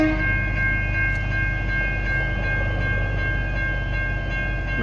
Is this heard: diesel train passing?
yes